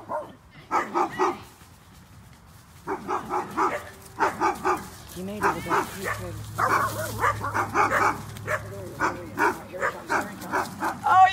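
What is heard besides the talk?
puppy barking and whimpering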